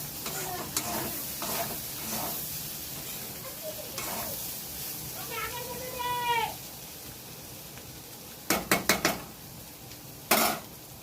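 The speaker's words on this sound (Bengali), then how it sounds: "এদিকে আমার উচ্ছে ভাজাটা হয়ে এসেছে প্রায়, একটু বাকি আছে।" Bitter gourd sizzles and fries in a pan at home, a soft steady crackle broken by scraping stirs and a few sharp metallic clanks of utensil on pan near the end, with a brief meow-like squeal in the middle.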